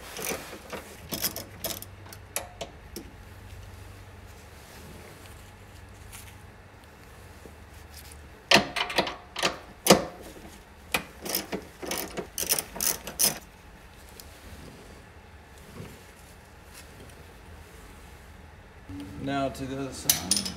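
A ratchet clicks rapidly in repeated bursts while 13 mm bolts are loosened on a BMW E92 M3 during an exhaust venturi install, with metal clinks and tool handling between the bursts; close and moderately loud.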